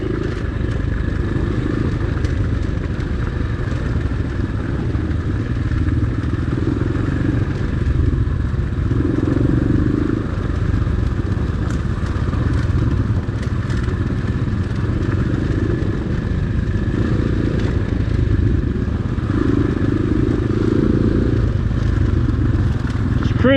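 An X-Pro Storm 250 motorcycle on a wooded trail cruising in second gear, a steady low engine drone with occasional clatter and thumps from the ground, continuous and fairly loud throughout.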